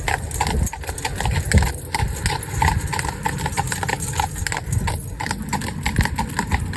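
A Friesian stallion in harness being taught to drive as a pair clip-clops steadily on a road, its hooves a continuous rhythmic patter with some jangling and a faint engine behind.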